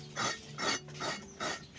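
A fine-toothed hacksaw, the kind made for metal, cuts through a motorcycle seat in four steady rasping strokes, each a broad scratchy burst with short pauses between, close and fairly quiet.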